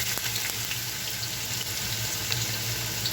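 Onions go into a hot pan to sauté for a chicken dish, giving a steady, close sizzle that continues without a break and with no talking.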